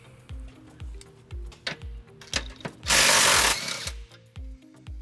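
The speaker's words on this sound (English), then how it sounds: "on the driver's side, we're going to remove this bolt on the bottom of the frame rail" Ratchet wrench with an 18mm socket working a bolt loose on the underside of a 2010 Dodge Nitro frame rail: quick repeated clicking bursts, close, with a louder hiss-like burst in the middle, no talk.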